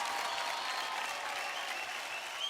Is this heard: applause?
yes